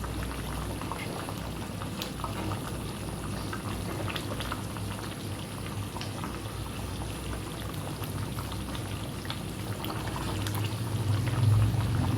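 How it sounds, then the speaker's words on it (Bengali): Chicken korma gravy bubbling in a pot over a raised gas flame, a dense continuous burble of popping bubbles that swells louder near the end, with no voices. "এবার গ্যাসটা বাড়িয়ে একটু ঝোলটা টানিয়ে দেবো।"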